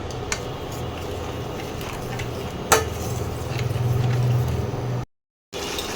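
A spice paste for shahi echor (jackfruit curry) is stirred and fried in a pot. A spoon scrapes and clinks against the metal, with one sharp knock midway and a brief gap of silence near the end.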